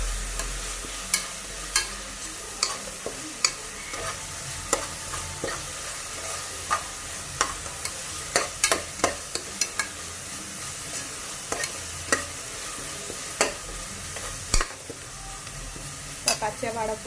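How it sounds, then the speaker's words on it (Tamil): Ground onion paste for mutton curry sautés in a pan with a steady soft sizzle, punctuated by frequent sharp scrapes and taps of a spoon stirring. "வெங்காயத்தோட பச்சை வாடை போகிற அளவுக்கு வதக்கிக்கலாம்."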